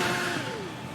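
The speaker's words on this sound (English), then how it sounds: "And so we are revving up at the start." A Suter racing motorcycle revs at the start line in the TT Isle of Man game, a continuous engine drone whose pitch slides downward as it eases off, steady and fairly close.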